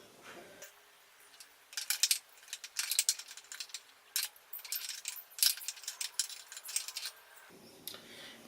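Screws come out of the chain guard on a Yamaha XSR900 motorcycle, producing small metallic ratcheting clicks, rattles and light clinks in irregular bursts, close but quiet, with no talking.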